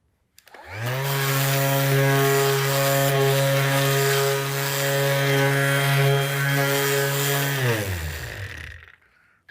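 A cordless Bosch UniversalSander 18V-10 spins up from silence into a loud, steady motor whine with a droning harmonic buzz, runs evenly for several seconds, then winds down and stops.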